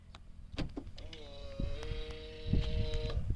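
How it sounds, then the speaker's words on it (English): On a 2020 MG Hector Smart Hybrid turbo-petrol SUV, the auto-folding side mirrors close with a whirring electric-motor whine that rises in pitch and holds for about two seconds, with light clicks and thumps around it. "auto closing mirrors."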